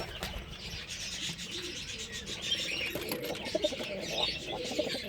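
Pigeons, including a black hen with a chick nestled beside her, coo softly in a rooftop nesting spot with clay bowls, faint low murmurs under light rustling and scratching.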